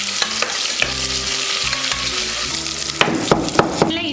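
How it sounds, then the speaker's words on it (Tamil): Mustard seeds, urad dal and two dried red chilies fry in hot oil, a loud, close sizzle broken by sharp crackling pops and a few clicks, with the popping growing busier toward the end. "எண்ணெய் காய்ஞ்சதும் கடுகு உளுந்தம் பருப்பு கொஞ்சம் கடை ரெண்டு வரமிளகா சேர்த்துக்கலாம்"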